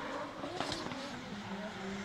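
A drift race car slides on track, a loud, noisy engine roar with a brief burst of tire squeal and skidding over about two seconds, distant crowd noise beneath.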